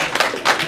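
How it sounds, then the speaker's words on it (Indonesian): A short burst of audience applause at a talk, a few sharp claps rising in two quick waves, close and fairly loud, with no speech over it. "Tepuk tangan dong untuk filosofinya Mas Ari."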